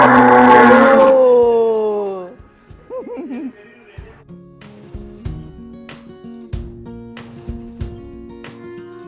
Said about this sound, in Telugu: ఇది గిరి బుల్ల ఇండియన్ నేటివ్ బ్రీడ్